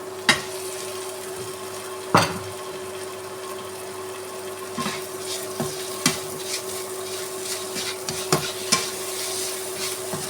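Sausage stirred into a vinegar pickle mixture in a pot, a continuous soft scraping and squelching with occasional sharp clinks of a spoon against the vessel, close and fairly steady throughout.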